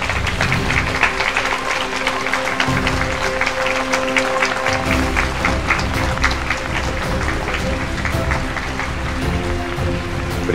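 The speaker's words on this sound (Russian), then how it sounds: "Ваши аплодисменты." An audience at an award ceremony breaks into loud, sustained applause, dense clapping from a large crowd filling the whole stretch with a faint voice or two underneath.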